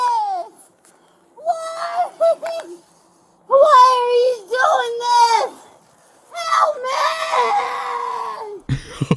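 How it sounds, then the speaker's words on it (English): A drunk woman stopped by police screams and wails in long, high, harmonic bursts, loud and close. The bursts repeat over several seconds with brief breaks between them. "She's screaming like she done got shot or something."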